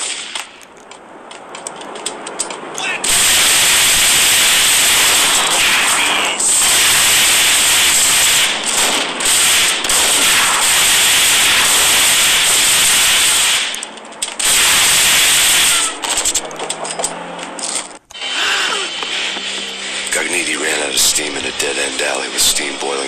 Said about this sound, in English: Dead-end alley with steam boiling out of the sewer grates like all the fires of hell were burning high beneath us